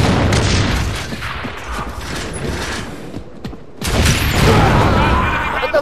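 Boomshot grenade launcher firing in Gears of War 3, a dense stretch of heavy booms and mechanical clatter that drops briefly to near silence, then surges back loud and close.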